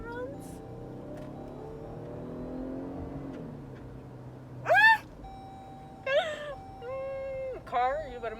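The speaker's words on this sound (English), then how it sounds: "you just hear how smooth that runs?" A car engine idles smoothly, a low, even hum with a gently shifting pitch for a few seconds, then short high vocal sounds break in over it.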